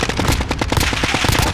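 A frag grenade blast in a video game, heard as a dense, rapid crackle of sharp popping bursts, loud and continuous, like a rattling barrage rather than a single boom.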